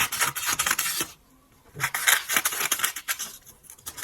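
Scissors snipping through paper or cardboard to cut out a rough ventilation shape for a 2 by 4 closure, close and steady, with a short pause partway before the cutting resumes.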